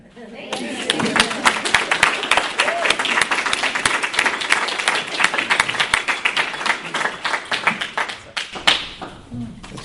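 A recovery meeting audience breaks into sustained applause, dense clapping from many hands that builds quickly, holds for several seconds and then thins out into scattered claps.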